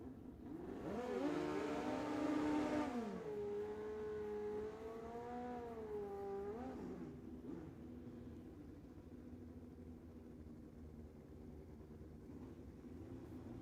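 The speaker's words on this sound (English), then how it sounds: "we're going to have a battle of the blue bikes here as Joe gets set to go side by side with Dave Euler." Drag racing motorcycles launch side by side at a dragstrip, a loud rising engine howl with pitch sweeps that peaks early, then drops into a steady receding rumble as the bikes pull away.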